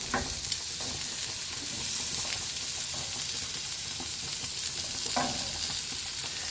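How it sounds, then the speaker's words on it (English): Chicken sizzles steadily in a hot pan, a constant crackling hiss with occasional sharper pops and the scrape of stirring. "We got our chicken over here cooking. It's searing over here, which is great."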